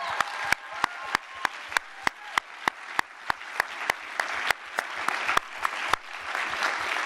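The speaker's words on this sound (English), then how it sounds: "another round of applause for our storytellers" Audience applause for storytellers at a Story Collider show during the AGU Fall Meeting, a steady wash of clapping punctuated by a series of sharp, loud individual claps close by, continuing evenly to the end.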